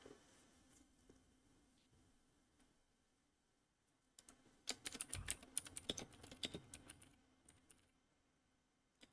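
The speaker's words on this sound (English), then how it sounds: "I am just typing." Computer keyboard being typed on: a quiet stretch of faint ambience, then a burst of rapid, uneven key clicks close to the microphone that fades out near the end.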